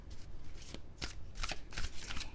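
Cards shuffled before a pick-a-card reading, four or five quick, close riffles in an even rhythm over a soft background hiss, with no voice.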